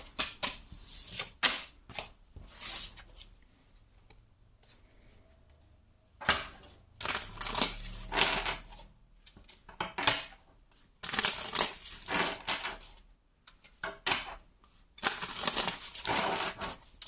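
Tarot cards are shuffled and handled in bursts of crisp riffling and sliding, close and fairly quiet, separated by short pauses.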